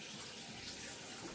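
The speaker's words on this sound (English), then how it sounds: "I'm gonna get some hot water or cold water and put it in the kettle to warm it up" Tap water runs steadily into a kettle, a continuous close hiss and splash with no voices.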